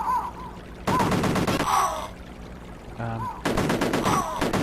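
Rapid bursts of gunfire from an Amiga shooting game come in several loud clusters between quieter stretches, with chirpy electronic game effects sounding between the shots.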